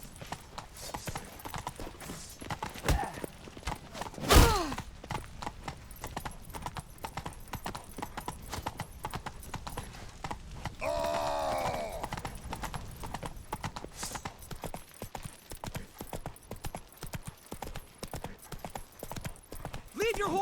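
Horse hooves clip-clop steadily at a gallop in The Witcher 3 video game, with a brief whinny partway through, mixed under raised voices and game sounds for the whole stretch.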